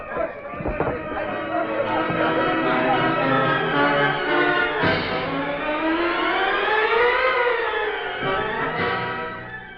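Police siren sound effect in a Green Hornet radio drama: a loud, continuous wailing tone that rises and falls steadily for about ten seconds, dominating the scene.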